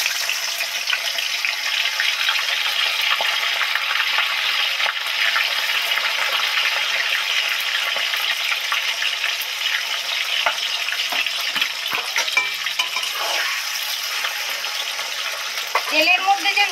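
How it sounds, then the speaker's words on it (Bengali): Pieces of bitter gourd fry in hot salted oil, a loud continuous sizzle that holds steady, with occasional stirring clatter and a few louder crackles near the end. "সবার আগে উচ্ছে কটা তেলের মধ্যে দিয়ে দিচ্ছি।"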